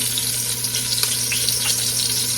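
Lamb stew meat browns in a pot with a steady, close sizzle and faint scraping of stirring.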